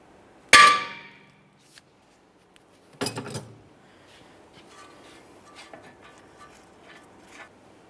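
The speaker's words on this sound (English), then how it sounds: "I'm going to tap on the knuckle here, attempting to break this free." A hammer taps on a car steering knuckle to free the tie rod on a 2013-2020 Ford Fusion, giving one loud ringing metal clang, then a quieter double knock a few seconds later, followed by faint shuffling.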